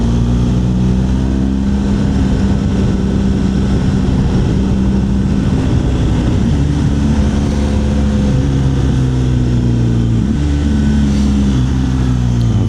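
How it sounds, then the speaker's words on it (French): A BMW R1200GSA motorcycle pulls hard on a lakeside road ride, its engine drone loud and close with rising and shifting harmonic tones under steady wind rush, no voices. "sentir un petit peu les coups de pied au cul qu'elle vous donne quand on accélère cette moto-là."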